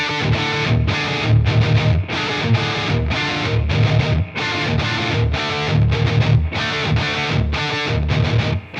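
High-gain electric guitar through a PRS Archon MKII amp with gain near three o'clock, playing loud, dense distorted riffs with rhythmic chugging bursts and brief gaps, steady and close throughout.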